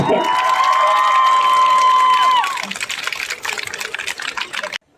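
Applause and cheering at a graduation ceremony: a sustained tone fades after a couple of seconds into a scattered, uneven patter of clapping and crowd noise that stops abruptly.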